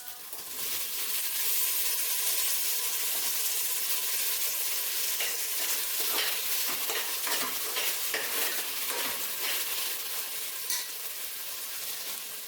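Chopped tomatoes fry and are stirred in a pan for chicken biryani, a steady close sizzle with repeated scraping and stirring clatter running throughout, with no one talking.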